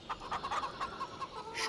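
Chickens in the farming game Farm Sim 25 cluck in a rapid, uneven series of short calls, close and fairly loud, with no talking.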